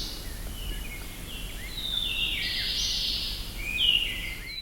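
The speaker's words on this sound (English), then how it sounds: "You reach the mountain forest, you hear the birds singing." Several birds chirp and sing continuously in the distance in a mountain forest on Mount Elgon, Uganda, with high-pitched trills rising and falling over a quiet, steady outdoor background.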